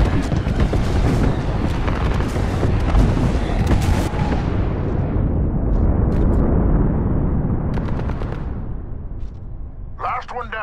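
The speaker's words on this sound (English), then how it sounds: "Calling the airstrike." Heavy airstrike explosions rumble in Apex Legends, a dense, loud barrage of booms and impacts that gradually thins out, with sharp cracks scattered near the end and voices talking over the battle.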